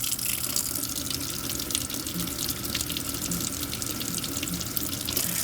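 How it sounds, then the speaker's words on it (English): Tap water runs into a sink while preparing to clean dentures, a loud, close, continuous gushing stream that holds steady throughout without speech. "I'm going to check for moderate temperature water."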